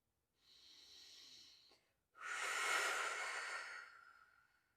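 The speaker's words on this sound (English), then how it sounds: "take a whole breath. Full exhale." During an abdominal vacuum exercise, one soft breath in is followed by a short pause and then a longer, louder, airy exhale that gradually fades, heard close with no talking.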